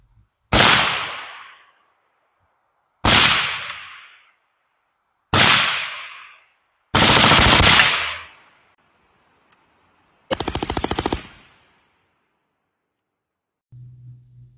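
Five sharp rifle shots through a Huxwrx Ventum 7.62 suppressor on a 10.3-inch 5.56 during a flash test, irregularly spaced with quick decays, loud and alone, followed by a faint low hum.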